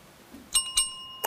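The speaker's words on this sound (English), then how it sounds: "the bell signals the end of the round" A quiz show bell marking the end of a round rings as a few quick bright metallic dings, a pair close together then one more, crisp and near over a quiet studio background.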